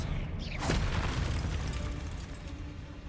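Spell cast in Hogwarts Legacy, a sharp whooshing burst that swells into a booming impact around the middle, over a continuous rumbling game backdrop.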